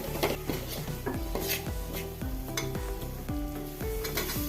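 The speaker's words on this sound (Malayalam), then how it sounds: "ഒരു ടീസ്പൂൺ മുളക് പൊടി ഒരു teaspoon chicken masala chicken masala ഇല്ലെങ്കിൽ ഗരം മസാല ഇട്ടാലും മതി എന്നിട്ട് നല്ലപോലെ മിക്സ് ചെയ്യുക" Chilli powder and chicken masala are stirred into a frying pan while cooking a cauliflower dish, with a steady close sizzle and repeated metallic spoon scrapes and clinks against the pan throughout.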